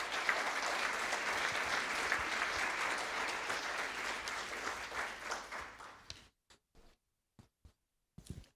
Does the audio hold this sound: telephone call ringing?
no